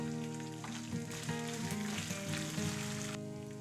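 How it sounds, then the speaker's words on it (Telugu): Ginger and green chillies sizzle in hot oil for a tempering, a soft continuous frying crackle under some steady background tones, without speech. "వీటిని ఇప్పుడు బాగా ఫ్రై చేసుకోవాలి."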